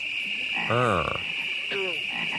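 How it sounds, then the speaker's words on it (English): The Budweiser frogs from a 1990s beer commercial croak in two distinct calls, the first longer, over a faint steady background hum. "Do you remember the Budweiser frogs?"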